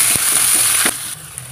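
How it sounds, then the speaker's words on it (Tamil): Steady crackling sizzle of curry leaves and onion frying in hot oil for tomato kurma, with a few soft knocks and a quieter hiss toward the end. "கறிவேப்பிலையும் வெங்காயமும் போட்டுக்கலாங்க."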